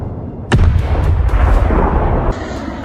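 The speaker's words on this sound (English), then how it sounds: "Missiles cut through the haze. 1, 2, 3 impacts in a row." Missile impact in a war zone near wheat fields, a sharp, heavy blast that erupts loud and close, followed by a rolling, sustained rumble of debris and echo that slowly settles, with no talk.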